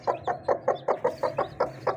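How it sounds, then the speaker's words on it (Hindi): A blue Shamo hen clucks in a quick, even series of about ten short clucks, close and moderately loud, with no talk over it. "ये मेरी ब्लू शामू की मुर्गी है, फीमेल है।"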